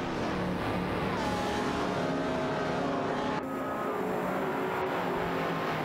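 Game race cars, including an Aston Martin Vantage and a McLaren F1 GT, scrap for position on track, engines whining loudly and continuously, with rising and falling pitch as they shift and one car's note cutting off abruptly mid-run.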